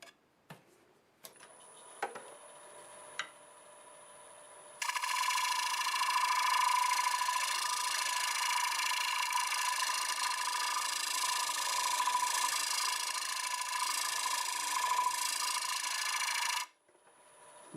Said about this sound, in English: Use a negative rake scraper.